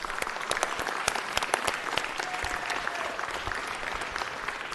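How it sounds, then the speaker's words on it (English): Applause at a city council meeting during a Lunar New Year celebration, with sustained crowd clapping, many sharp individual claps standing out over the roomful of hands. "Let's give all of the people that are here today the kind of round of applause that they deserve,"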